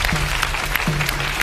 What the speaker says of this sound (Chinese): 感谢大家的掌声鼓励啊